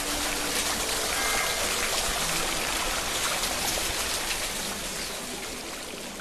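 Shower water pours steadily at a spa, a dense, continuous hiss of falling spray that stays loud and even, easing slightly toward the end.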